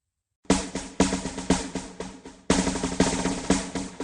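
A drum is struck in a steady beat, about two hits per second, with a stronger accented stroke midway. Each hit is close and punchy with a short decay, and nothing else is heard.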